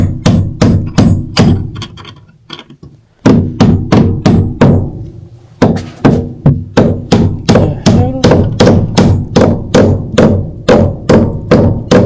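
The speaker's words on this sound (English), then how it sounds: "Hammering overhead sucks." Nails being hammered overhead, pipe-threading work in progress: a steady series of sharp, loud wooden thwacks in quick runs, with a brief pause near three seconds and another around five and a half, then continuing in even rhythm.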